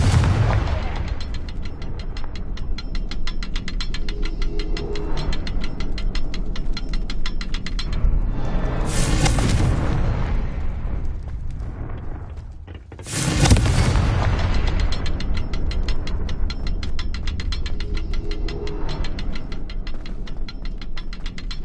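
Blasts from the Confringo fire spell in Hogwarts Legacy, booming in a dense, continuous game soundscape with two brief lulls, loud and close throughout.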